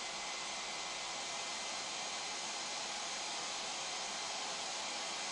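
Leister Varimat V2 hot air roof welder for PVC membrane roofing, its blower running as a steady, close hiss-roar of rushing hot air without change or voices.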